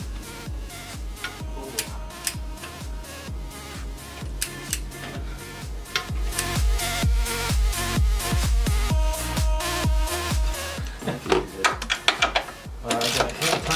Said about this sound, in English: torquing this bolt down to 100 foot-pound